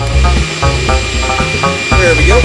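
A wood lathe in a workshop starts up and spins while a wand is turned, a loud motor whine with a shifting pitch under a brief spoken remark.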